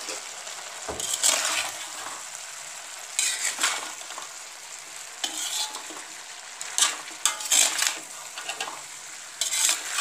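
Stirring garam masala into a potato, carrot and pea curry in a pan. A spoon scrapes and clinks against the metal in repeated strokes over a soft, steady sizzle, with no talking.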